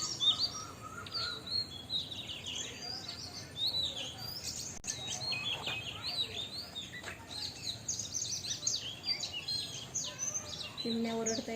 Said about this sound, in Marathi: चिमण्या ओरडताय बघ.